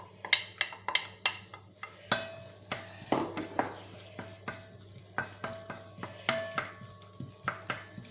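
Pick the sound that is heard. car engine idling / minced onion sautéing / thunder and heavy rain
minced onion sautéing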